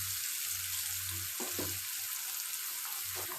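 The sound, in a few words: chopped onions frying in oil in a pan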